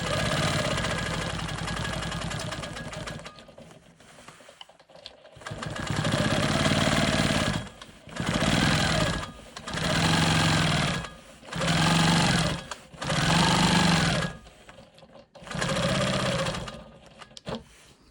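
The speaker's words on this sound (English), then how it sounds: "I'm using the Janome ditch ruler to stitch in the ditch around my block." A Janome Quilt Maker Pro 20 sewing machine stitches in the ditch around a quilt block with a ditch ruler, a steady loud motor hum running in six separate bursts with short pauses between them.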